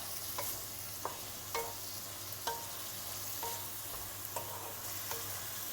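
Spinach and chicken stir-frying in a pan, with a faint steady sizzle and periodic soft scrapes of a utensil stirring, about once every second or so, no voices.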